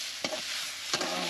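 Food frying in oil in a pan is stirred twice, each scrape standing out over a continuous soft sizzle, with no talk, during home cooking of meat for the Maghe Sankranti festival.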